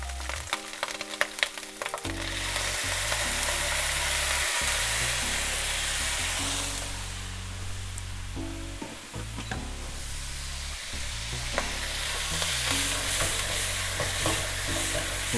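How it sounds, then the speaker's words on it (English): Onions sizzle and char in a hot pan with meat juice from short rib, a loud continuous frying hiss broken by stirring and scraping clatter, with no voices. "Now we're gonna go straight to the pan with this, because I got my onions already grilling, so. Got a nice char going."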